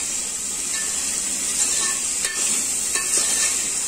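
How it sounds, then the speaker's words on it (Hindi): Chicken and chopped capsicum being stirred in a frying pan, a steady sizzle with occasional scraping and utensil knocks against the pan, close and continuous with no talking. "और इसको अच्छे से हिलाएंगे।"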